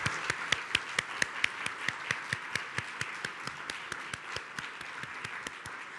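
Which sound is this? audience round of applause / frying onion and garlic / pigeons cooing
audience round of applause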